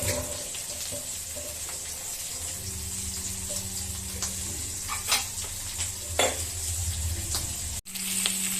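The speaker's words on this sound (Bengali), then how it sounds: "চিংড়ি মাছটা ভাজা বসিয়ে দিয়েছি চিংড়ি মাছটা ভাজা হোক অল্প করে একটু ভেজে নিই" Shola prawns fry in oil in a pan with a continuous close sizzle, punctuated by a few sharp spatula clicks and scrapes against the metal.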